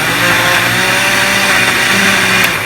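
A struggling home blender purees chicken tortilla soup ingredients, a loud steady whirring motor drone running continuously without a break.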